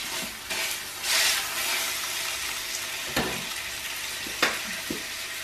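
A porterhouse steak sizzles in a pan with a steady, soft crackling hiss, joined by a few louder clatters and pops.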